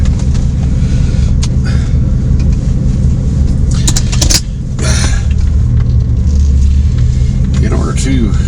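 A car cruises along the road, its engine rumbling steadily with tire and road noise, close and loud from inside, briefly dipping in the middle, with a voice over it at times.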